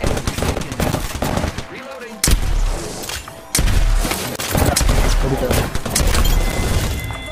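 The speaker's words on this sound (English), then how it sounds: "I am taking fire, friend." Automatic gunfire in Apex Legends, rapid loud bursts of shots with booming impacts in a ranked match, repeated volleys over several seconds, with voices talking at times.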